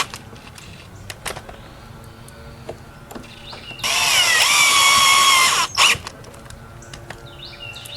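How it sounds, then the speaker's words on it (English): Power drill with its clutch set, driving screws through washers into a caster's large holes, one steady whirring burst of about two seconds followed by a short final spurt, near and loud over quiet background. "I set the clutch on the drill and just tighten them all afterwards."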